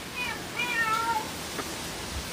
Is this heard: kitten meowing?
yes